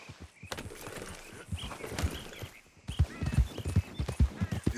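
Horse hooves clip-clopping in the video game Red Dead Redemption 2, a quick irregular series of close hoofbeats with harness jingles and a brief whinny-like tone, getting busier toward the end.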